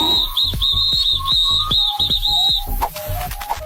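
A captain blows a shrill whistle to send a stray ant back into line: a warbling, high-pitched trill in quick repeated bursts for about two and a half seconds, loud over a steady thumping beat that carries on after the whistle stops.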